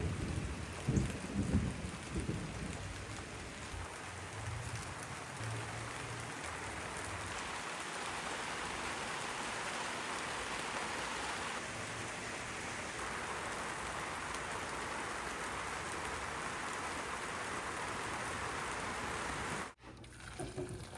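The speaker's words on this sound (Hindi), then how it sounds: "बारिश अभी भी हो रही है" Rain falling steadily on a rainy day at home, a constant hiss of drops on surfaces with low rumbles early on, holding even for about twenty seconds before a brief break near the end.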